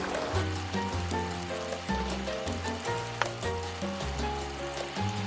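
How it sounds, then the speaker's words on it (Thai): Pork belly fries over low heat in oil with curry paste, a steady, close, fairly loud sizzle and crackle running throughout with scattered pops, no voices over it. "เราก็ทอดไฟอ่อนๆไปเรื่อยๆนะครับ"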